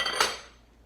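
A small metal ball and rubber grommet seal drop into a stainless steel auto siphon, one brief bright clink up close that fades quickly, followed by a faint second tick.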